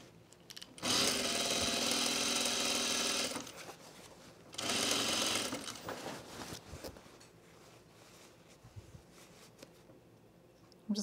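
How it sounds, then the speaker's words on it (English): A domestic sewing machine running an easing stitch through blazer fabric in two bursts of fast, steady whirring, the first about two and a half seconds long and the second shorter, followed by quiet handling noises. "I'm going to put an easing stitch in here real quick."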